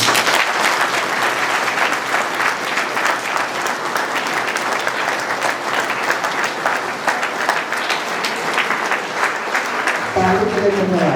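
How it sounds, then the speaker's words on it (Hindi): Steady, dense applause fills the hall throughout a college cultural program, loud and sustained from a large audience, with a voice cutting in near the end. "ताली के लिए धन्यवाद।"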